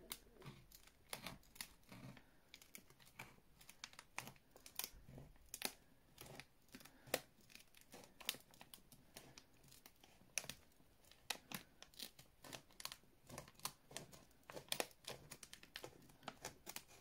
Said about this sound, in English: So they want me to cut along that line.